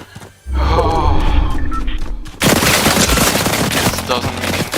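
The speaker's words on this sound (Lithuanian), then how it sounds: "Gal tu žiūrėk iš kur šaudo, ne?" Gunfire in the video game Fortnite comes as a rapid, dense stream of loud shots that grows heavier partway through and keeps going to the end, with game noise underneath.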